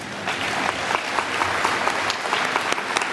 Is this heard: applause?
yes